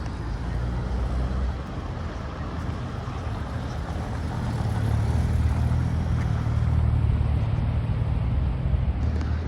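A DB6 car pulls away through busy Paris traffic toward the Arc de Triomphe, a low steady engine rumble swelling slightly amid a constant wash of road noise.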